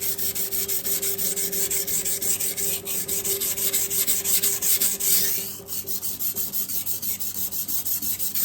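A knife blade is stroked repeatedly across a 400-grit sintered diamond sharpening stone, producing a rapid series of bright, gritty rasping passes in steady rhythm, close and fairly quiet, with a short pause partway through.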